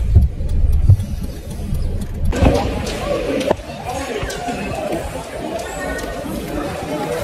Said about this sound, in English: Look at the cars down there. There's lots of cars.